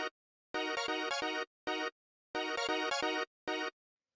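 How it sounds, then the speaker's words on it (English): A rave techno string sample run through a chorus effect, playing a repeating rhythmic pattern of sustained chord stabs and shorter hits, clear and isolated with no voices. "The first effect we have here is this chorus, which sounds like this"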